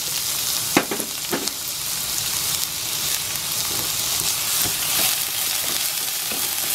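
Chopped onion drops into hot oil with garlic frying in a pan, giving a loud, steady sizzle with a few sharp crackles and stirring scrapes near the start.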